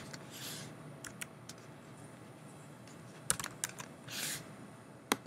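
A computer keyboard is typed on in short bursts, giving close, sharp clicks of separate keystrokes with short gaps between the runs, quiet and with no talking.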